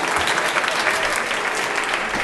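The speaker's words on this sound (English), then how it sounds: "Give him a round of applause." Audience applause at a UK Youth Parliament sitting, a dense, steady wash of clapping from a large crowd that carries evenly through the whole stretch without a break.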